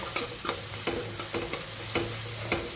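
Spice masala frying in oil in a pan for a spinach dish, stirred with a spoon: rhythmic scraping strokes over a constant loud sizzle, close up and without talking.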